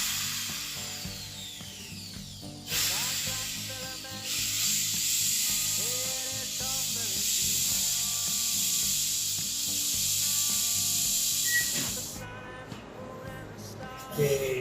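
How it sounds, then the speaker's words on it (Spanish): A drill bores into a stuck Allen screw on a Survision Micropack LPR camera, a sustained grinding whine that rises and shifts pitch for several seconds, starting and stopping close by. "y mi compañero Leonardo va a proceder con el taladro a perforar, ¿sí?"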